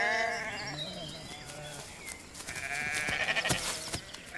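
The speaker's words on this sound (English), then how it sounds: "sheep graze in the meadows with their lambs" Sheep and young lambs bleat in a spring meadow in Central Europe, several overlapping calls near and farther off, carried over steady outdoor ambience with birdsong.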